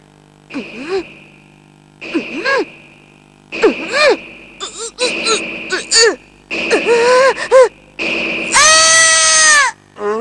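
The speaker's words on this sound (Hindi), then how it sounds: "तुम अचानक चीख क्यों पड़े" A boy in a Hindi-dubbed Ninja Hattori cartoon cries out in pain in a series of sharp, rising yelps and wails, ending in a long, loud, shrill scream.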